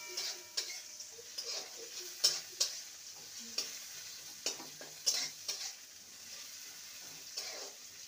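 Chopped onion frying in a pan, a faint, quiet sizzle with intermittent sharp scrapes and taps of stirring against the pan.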